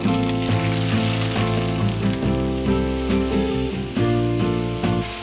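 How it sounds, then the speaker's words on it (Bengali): Shredded boiled green papaya fries in melted ghee with cardamom for a papaya semai dessert, a steady close sizzle running under loud melodic background music. "উল্টে পাল্টে একটু ভেজে নিতে হবে।"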